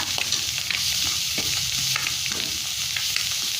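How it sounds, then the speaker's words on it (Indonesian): Spice paste fries in a pan with a steady, loud sizzle while a utensil stirs and scrapes through it, with no talking. "Kita akan goreng juga si bumbunya ini sampai wangi dan juga matang"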